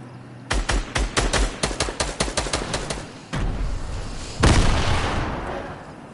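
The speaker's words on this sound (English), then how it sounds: "Who's tossing grenades?" Rapid bursts of gunfire in Fortnite crack out in a quick, evenly spaced string, then heavy grenade explosions boom twice with long rumbling tails, loud and close.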